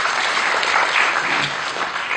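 Continuous crowd applause, a steady wash of clapping from many hands.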